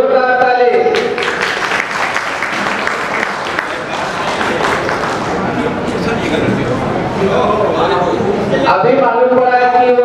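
An audience at a student award ceremony in Mumbai applauds loudly and steadily for several seconds, a dense crowd of clapping hands, with voices heard at the start and end.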